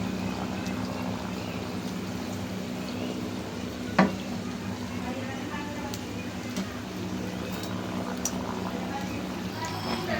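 Food frying in a pan while being stirred gives a steady, moderately loud sizzling hiss throughout, with a sharp knock near the middle and a few faint clicks.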